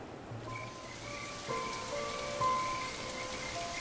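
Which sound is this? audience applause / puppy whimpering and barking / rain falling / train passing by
rain falling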